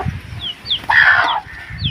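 A pet hen clucking at home, a few short chirpy calls followed by a louder, fuller cluck close by, with faint background noise in between.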